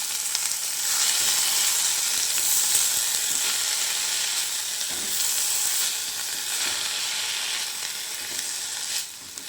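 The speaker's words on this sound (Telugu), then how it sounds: "పుదీనా కొంచెం బాగా వేగాలి" Mint leaves fry in a pan with a continuous bright sizzle and hiss, broken by a few stirring scrapes, and the sizzle eases slightly near the end; no talking.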